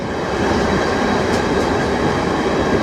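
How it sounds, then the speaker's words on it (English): Class 66 diesel locomotive 66783 'The Flying Dustman' in Biffa livery hauling an intermodal freight train into Felixstowe North Terminal, a steady loud rumble of engine and rolling wagons throughout. "66783, the Flying Dustman, is heading into Felixstowe North Terminal"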